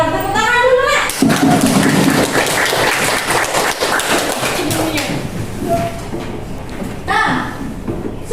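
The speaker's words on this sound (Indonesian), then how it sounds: "Tepuk tangan dulu," Students in a classroom break into loud applause after a teacher's voice, clapping fast and steadily for several seconds before the teacher resumes talking.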